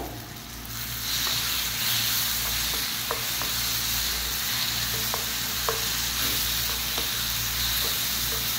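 Tomato frying with cooking masala in a pan, a steady close sizzle with intermittent clinks and scrapes of stirring.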